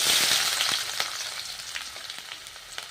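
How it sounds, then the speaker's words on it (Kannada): Onion and garlic sizzle steadily in hot oil in a pan for a cucumber palya, a loud, continuous hiss with a few small pops and crackles throughout. "ಈರುಳ್ಳಿ ಫ್ರೈ ಆಗಲಿ"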